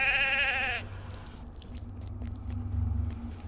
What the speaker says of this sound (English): there's another captive sheep